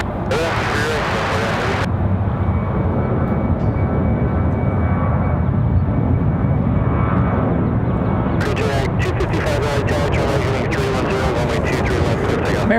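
A jet airliner, an American flight, roars as it takes off from a runway, a loud sustained broadband rumble that builds and holds, with a tower radio voice briefly heard and crackling bursts near the end.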